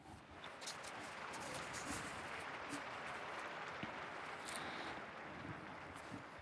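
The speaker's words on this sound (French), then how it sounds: "Je vous demande d'applaudir ces nouveaux bienheureux" A large outdoor crowd in a square applauds newly beatified blesseds, a steady distant wash of clapping with some wind noise, sustained evenly throughout.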